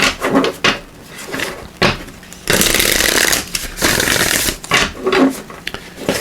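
Tarot cards being shuffled in several bursts of crisp riffling and flapping, with short pauses between rounds, close and fairly loud.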